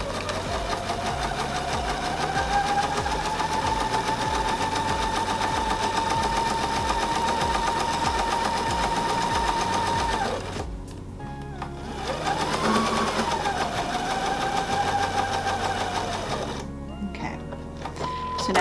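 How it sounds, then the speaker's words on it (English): Sewing machine stitching a seam, a steady fast mechanical whir with a rhythmic needle clatter, running close and loud, pausing briefly midway before resuming. "I'm going to seam this side now."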